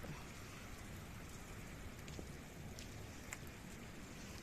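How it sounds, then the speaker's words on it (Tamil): Heavy rain pouring steadily outdoors in Saudi Arabia, a dense continuous hiss of drops on surfaces, even and moderately loud throughout with no voices. "நல்ல மழை பெய்யுது"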